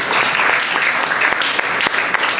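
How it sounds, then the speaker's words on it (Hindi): Crowd applause at an Arya women's life-building camp in Vashi, a dense, continuous round of clapping with sharp individual claps standing out, close and fairly loud. "उनका नाम लीजिए और उनके नाम की तालियां जानी चाहिए वहां तक"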